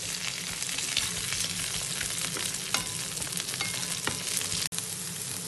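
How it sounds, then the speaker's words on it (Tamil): Mustard seeds, fennel, garlic and green chillies frying in hot oil in a pan, a dense steady crackling sizzle close up with a few sharp pops and light stirring. "கடுகு, பெருஞ்சீரகம், உள்ளி, உள்ளி பச்சை மிளகாயையும் அதோடைய சேர்த்து போடுறேன்"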